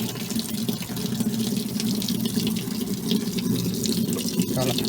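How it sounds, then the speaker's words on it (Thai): Water rushes steadily into an LG washing machine as it fills, a continuous close hiss and gush with a low mechanical hum beneath it and no pauses. "เอาน้ำเข้าเครื่องมาแล้ว โอเค น้ำเข้าเครื่องมาแล้ว"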